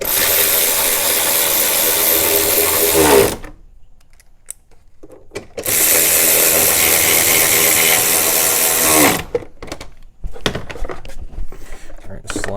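Power tool driving mount bolts on a 2011-2019 Ford Explorer during a motor and transmission mount replacement: two loud, sustained bursts of about three seconds each, separated by quiet gaps holding faint clicks and shuffling, close by.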